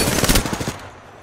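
Gunfire hits the player in Apex Legends as a rapid burst of automatic shots, loud and close, rattling quickly before cutting off into a short decaying tail.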